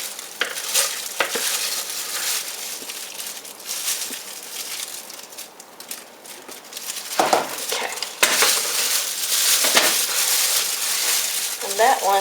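Soap batter being scraped out of a pot for geranium and sandalwood vegan soap, with repeated metallic banging and scraping clatter close by, continuous over about twelve seconds.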